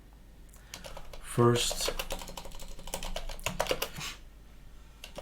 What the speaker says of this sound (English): So you just type git.